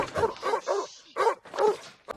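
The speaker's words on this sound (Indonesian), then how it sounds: "ia terkejut oleh gonggongan keras seekor anjing yang berada di dalam sebuah truk di dekat situ" A dog inside a truck barks loudly and close, five or six sharp barks in quick succession with short gaps between them.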